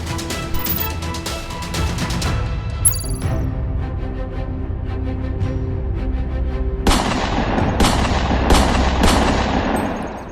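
Gunshots fired by extortionists to intimidate shopkeepers ring out as a rapid series of sharp cracks, some overlapping in bursts, with several loud reports closer together near the end.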